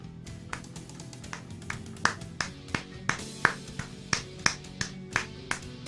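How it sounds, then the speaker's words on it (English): Studio hosts clapping in a loose, irregular rhythm for several seconds, about a dozen sharp claps fairly close and moderately loud over a faint room hum. "Just clapping for greatness."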